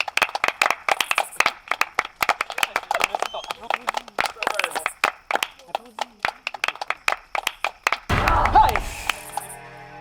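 A live audience applauds with rapid, irregular clapping that runs throughout, mixed with shouting and chatter, and a heavier burst of noise near the end.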